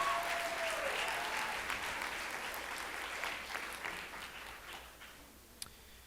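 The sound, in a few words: audience applause at pageant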